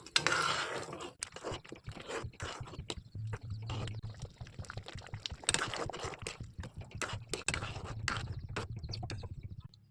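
Kalai dal with a fish head and fried onion and garlic being stirred in a pot: close, repeated scraping clicks and soft wet crunches in an uneven rhythm, with no talking.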